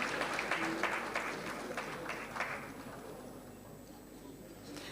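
Applause at a Ghana Navy Memorial Day ceremony as a resort representative comes up for an appreciation plaque: a modest patter of clapping from a gathered crowd, strongest at first and thinning out toward the end.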